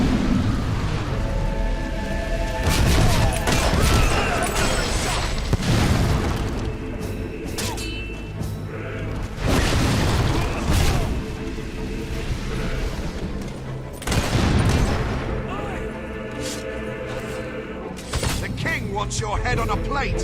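Gunfire and heavy booms crash through a battle in Fable 3. Bursts of shots and explosions recur throughout, loud and dense, with shouted voices mixed in.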